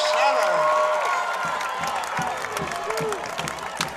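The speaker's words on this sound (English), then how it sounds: "this crowd sure got alive real fast" A high school football crowd at a Friday night game erupts after a made field goal, loud cheering and clapping with whoops that swell at first and then settle, while a commentator talks over it.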